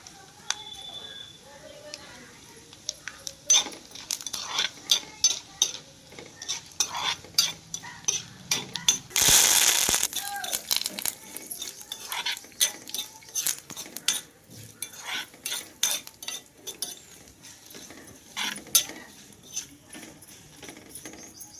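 Dry chillies, peanuts, green chillies and cumin tempered in a pan, stirred with a utensil: repeated scraping and clinking taps over a soft sizzle. One brief loud hiss bursts out partway through.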